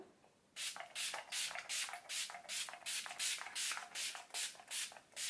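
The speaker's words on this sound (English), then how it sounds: "I just like to apply a nice generous spray of my Decay setting spray all over" A bottle of Decay makeup setting spray pumped onto a face in a steady rhythm, about a dozen quick close-up hissing bursts in a row with no talking.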